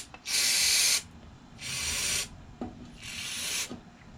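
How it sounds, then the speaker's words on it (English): Carburetor cleaner sprayed from an aerosol can onto a push mower carburetor: three loud, close hissing bursts of about a second each, separated by short pauses with faint clicks and handling noises. "We'll go back through with carburetor cleaner again."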